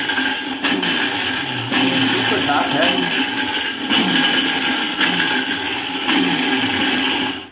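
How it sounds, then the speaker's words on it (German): A kitchen blender pulses in short grinding bursts while it breaks up acorns for acorn coffee, loud and close, with someone talking over it in German. "Dieser Mixer kann eben das pulsen"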